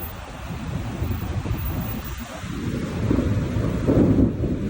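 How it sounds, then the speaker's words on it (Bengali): Rain falling on a city street in Kuala Lumpur as thunder rumbles, a dense low roar that swells louder toward the end. "কি সুন্দর বৃষ্টি নামতেছে"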